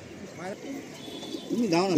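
Pure Kalasabuj pigeons coo softly nearby, a few warbling calls rising and falling, with someone talking over them throughout.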